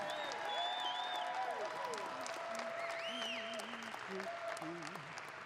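A packed crowd at the Lancaster Archery Classic Barebow finals applauds the finalists with steady, dense clapping throughout, under an announcer's voice and music.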